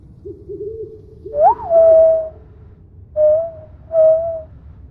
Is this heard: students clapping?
no